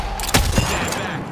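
Gunfire in a shooter video game, two sharp, loud shots in quick succession over a steady din of background game noise, heard up close.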